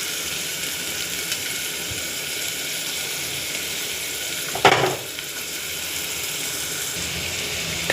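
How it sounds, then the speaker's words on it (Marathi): Onion sizzling in hot oil with garlic and green chillies for a soybean and bean bhaji, a loud continuous frying hiss with one brief clatter of stirring midway. "कांदा टाकला आहे, मस्त लाल होईपर्यंत भाजायचा।"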